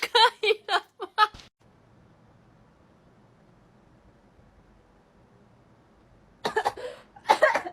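A person coughs in a rapid burst of several harsh coughs during a nasal swab test, followed by a quiet pause, then another close, loud round of coughing.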